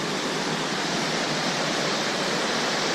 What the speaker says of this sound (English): Some pretty intense rapids down through here.